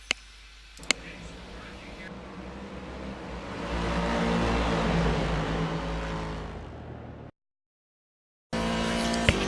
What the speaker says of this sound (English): we're going to have a look at a quick hot lap around the track